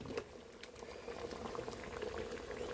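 Water boils hard in a can during a cooling-system part test on a 1965 Ford Thunderbird rebuild, a steady close bubbling and rolling with no voices.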